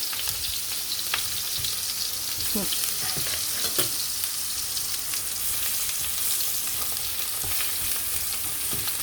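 Food spatters and sizzles steadily while frying in a hot pan, with a dense hiss broken by sharp pops and crackles throughout, no voices over it.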